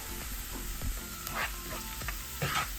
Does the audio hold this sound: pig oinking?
no